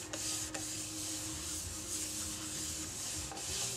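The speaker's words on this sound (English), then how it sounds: "I'm just going to keep rubbing this stuff on there till I like it." Cloth rubbing finish onto a turned Spanish cedar bowl, a continuous close scuffing hiss with a few brief sharper strokes, no voices.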